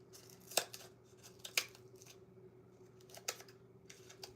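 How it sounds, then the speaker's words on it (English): Scissors snip through cardboard in a quiet room, a few sharp separate cuts spaced about a second apart followed by softer trailing crunches, close and fairly faint over a low steady hum, with no talking. "grab some scissors and I'm going to cut the top of my cardboard on the inside"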